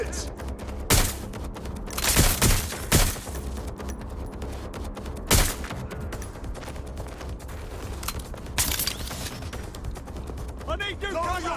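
Rapid gunfire bursts and single loud shots crack out in a Watch Dogs: Legion shootout, several sharp volleys over a constant combat din, with shouted voices mixed in.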